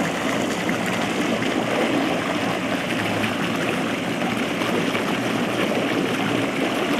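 Steady splashing and trickling of a small fountain at a zoo, constant and close, with no voices over it.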